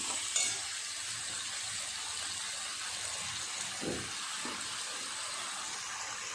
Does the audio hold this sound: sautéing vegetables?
yes